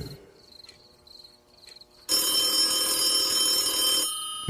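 A telephone rings loudly as a sound effect in a Bengali horror audio story, a sudden harsh bright ringing that bursts in after a quiet stretch of faint chirping tones and holds steady for about two seconds.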